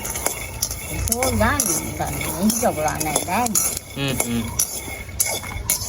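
Peanuts being roasted in a pan are stirred with a metal utensil, giving scraping and clinking sounds under a woman's ongoing speech, with other voices also talking in a home kitchen.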